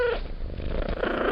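A person imitates a cat's purr with a voice alone, producing a close, steady, rolling rumble that lasts just over a second, with no other talk.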